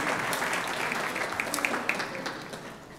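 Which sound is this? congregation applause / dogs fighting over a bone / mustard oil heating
congregation applause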